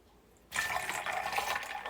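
Carrot and ginger juice pours into a container in a steady liquid splash that starts abruptly and keeps running close and fairly loud.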